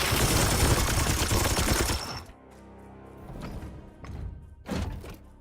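Gunfire in the video game Chaos Gate, a dense, loud burst of rapid shots on a target that cuts off sharply, then a few separate heavy thuds afterward.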